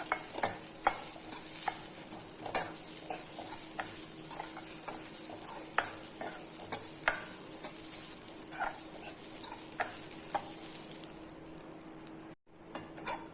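Sesame-ball ingredients, with coconut added, are dry-roasted in a pan. A spoon scrapes and stirs in a steady, repeated rhythm of close ticks and scrapes over a faint background hiss, and no one talks.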